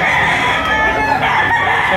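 A rooster crows among the poultry at a busy chicken market behind SM Lipa in Lipa City, Batangas, a loud close call that fills the moment, with market noise around it.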